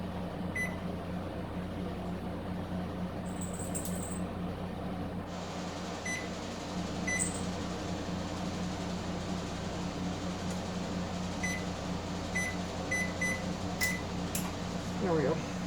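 An oven's control panel chirps out several short, high electronic beeps over a steady appliance hum, scattered in small clusters across the stretch, with a voice talking in the background.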